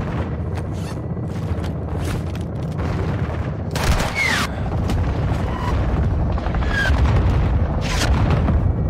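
Called-in fire-support strike explosions in the Call of Duty: Modern Warfare II campaign, a series of heavy booming blasts with sharp bursts rising over a constant rumbling battlefield din, no talk.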